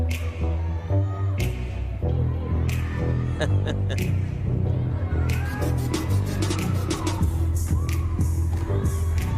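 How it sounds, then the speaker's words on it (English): A crowd cheers and applauds at a UCLA gymnastics meet in Pauley Pavilion, a steady roar of voices and clapping throughout, with talk over it. "the crowd in back of us all on their feet"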